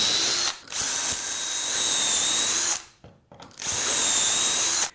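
A power drill whines through wood in three bursts, each several seconds long, with brief pauses between them, close and loud, drilling holes for a shop cabinet.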